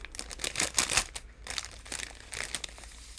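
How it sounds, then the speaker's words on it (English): Plastic packaging crinkles close up while a small-shop haul is unboxed, in quick irregular rustling bursts with brief pauses, fairly quiet. "Sorry about the crinkling."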